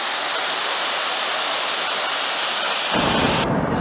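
A waterfall in Litchfield National Park, Australia, roars in a constant broad hiss of falling water, then swells deeper and heavier for the final second as the sound comes nearer.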